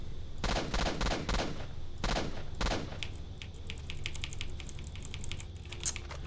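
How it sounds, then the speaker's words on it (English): Gunfire in STALKER: Shadow of Chernobyl, several sharp bursts of shots in the opening seconds, then lighter scattered cracks and taps continuing faintly underneath. "Man walks away shooting."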